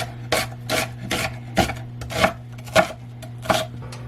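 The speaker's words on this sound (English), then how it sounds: "I'm gonna go ahead and just dice up my white onion" A knife dices a white onion on a cutting board, about nine evenly spaced rasping cuts up close, over a steady low hum.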